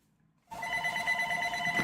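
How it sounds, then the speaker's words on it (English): A telephone starts ringing abruptly after a moment of silence, a steady, fairly close electronic trill that continues to the end. "Why is the phone ringing?"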